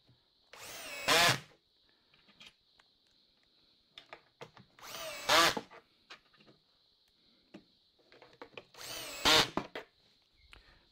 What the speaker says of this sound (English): I have the drill here, but I don't have a new battery in it